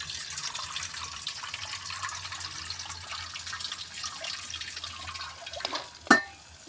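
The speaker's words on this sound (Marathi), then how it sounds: "दोन पाण्याने धुया" Water sloshes and trickles steadily as sprouted moth beans are rinsed in a vessel, ending with a sharp clink near the end.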